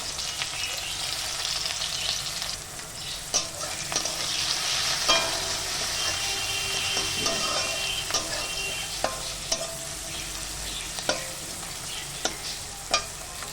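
Onions frying in oil in a pan to temper cooked dal, a steady crackling sizzle close by with occasional sharp clinks of a spoon stirring against the pan.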